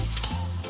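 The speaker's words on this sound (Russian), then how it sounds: "бульончик у нас уже здесь закипает" Broth for chumar ashi, a dough soup with plenty of meat, heating in a pot, heard as a dense, close sizzling and bubbling hiss with a low rumble underneath, steady and unbroken.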